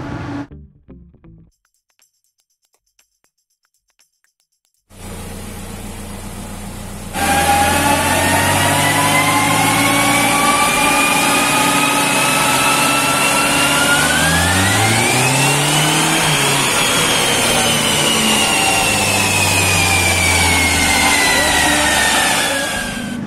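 A remapped Hyundai Accent on a dyno: after a brief gap the engine starts and runs loudly, then climbs in a long rising rev sweep and holds high before easing, close and alone without talk.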